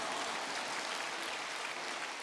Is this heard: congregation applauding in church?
yes